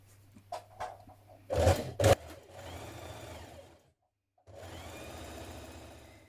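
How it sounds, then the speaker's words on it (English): A sewing machine stitches the front and back panels of a shirtdress together at the top. Short bursts of needle noise give way to a steady whirring run, a brief stop, then another even run, all close up with no voices. "Now sew your front dress to your back dress panel at the top."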